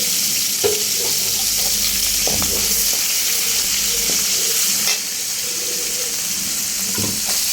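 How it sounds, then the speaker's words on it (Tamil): Onions and dried red chillies fry in hot oil beside a bay leaf for a masala chicken, giving a loud, steady sizzle with occasional stirring clicks and scrapes throughout and no talking. "எண்ணெய் காஞ்சிடுச்சு போட்டுட்டு இப்போ வெங்காயம் மிளகா வத்தல்"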